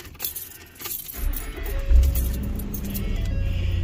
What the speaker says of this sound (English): Then start your vehicle.